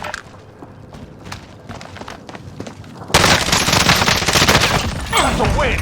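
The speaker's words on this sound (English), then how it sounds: "Burst fire Fennec, there you go." Burst-fire Fennec shots in Call of Duty: Warzone, quick clustered cracks at first, then a dense, loud stretch of rapid gunfire and impacts filling the second half.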